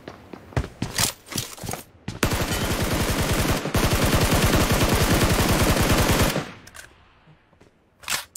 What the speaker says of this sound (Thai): ไอ้วะยิงกูเนี่ย